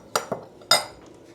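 A spoon stirring chili flakes and sesame seeds in a bowl for chili oil, three quick light clinks against the bowl, close and brief.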